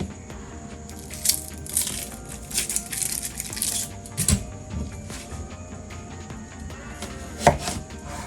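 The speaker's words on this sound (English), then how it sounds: "We're going to chop up our onion." A knife chops an onion on a cutting board in a steady run of crisp, close knocks, with a few louder strikes and no talking.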